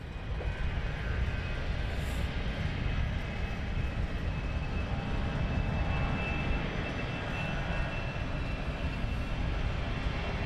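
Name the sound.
aircraft departing at London Luton Airport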